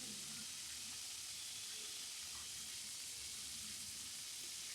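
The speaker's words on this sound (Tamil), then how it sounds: "நான் இந்த எண்ணெயை தாளிக்கிறதுக்கு யூஸ் பண்ணுறதுக்காக தான் அந்த எண்ணெயில் கருவாடை பொரிக்கிறேன்" Faint, steady sizzling and crackling of dried fish frying in hot oil, continuous and even throughout.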